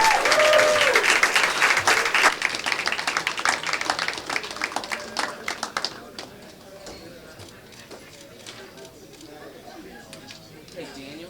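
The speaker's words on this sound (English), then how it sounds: "Have a big round of applause for Mr. Daniel Gordon." Audience applause at a billiards championship final honoring the amateur runner-up, with dense loud clapping that tapers after about six seconds into scattered claps and murmuring.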